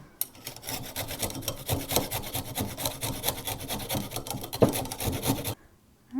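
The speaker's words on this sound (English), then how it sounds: "Cut the ends off of our carrots, and then I'm just going to grate them into a bowl." Fresh carrots grated by hand into a bowl for spring rolls: fast, rhythmic rasping strokes close up, steady for several seconds before stopping abruptly.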